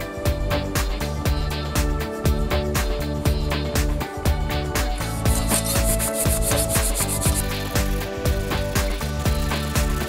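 A Honda lawn mower rear wheel shaft being cleaned up by sanding, a dense continuous scratchy rubbing close to the listener that runs steadily throughout, with no talking.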